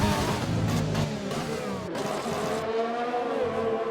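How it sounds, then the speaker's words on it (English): A Renault Formula 1 car in a racing video game at Britain screams at high revs and drops through several quick downshifts, loud and continuous, with engine tones stepping down in pitch. "Renault downshift."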